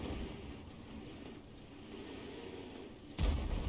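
A tank gun fires a single round at an enemy T-34B in a tank video game, a sudden heavy boom near the end after a low rumbling engine drone, with no talk.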